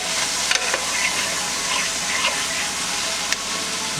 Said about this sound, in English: Now we're just going to give it a bit more of a stir here.